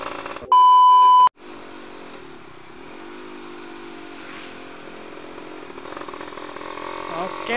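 A Yamaha F1ZR motorcycle with the exhaust baffle removed idles and buzzes steadily close by after a short loud electronic beep at the start, the engine rasp rising slightly toward the end.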